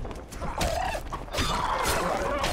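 Shrill squawking cries from harpy monsters in The Witcher 2, several overlapping calls rising over a busy combat backdrop of clanks and movement, fairly loud and continuous.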